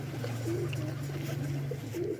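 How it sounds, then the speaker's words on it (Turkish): Pigeons coo softly and repeatedly over a low, steady hum, with a few faint chirps mixed in. "Kuşlar da bekliyor."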